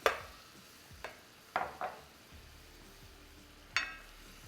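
Heavy whipping cream is stirred in a pan with lobster tails, a soft simmering hiss punctuated by several sharp utensil clinks and scrapes against the pan, close and fairly quiet.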